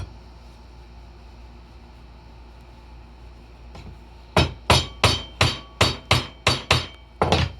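A hammer striking a chisel while cutting hand-cut dovetails in wood, about nine sharp, evenly spaced blows in quick succession after a quiet lead-in, close and loud.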